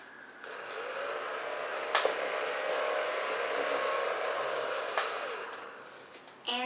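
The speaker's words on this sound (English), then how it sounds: "So with all of that, you can make one vacuum cleaner" A homemade DIY vacuum cleaner runs with a steady, breathy whirring hiss for several seconds, close and fairly loud, with a couple of brief clicks or bumps before it winds down and stops.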